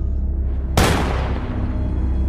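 A single sharp gunshot cracks out loudly, followed by a long ringing decay that fades slowly over a steady low background rumble.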